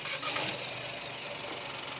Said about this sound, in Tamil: இது வந்து ஐடில் சின்ன ஒரு வைப்ரேஷன் இருக்குது.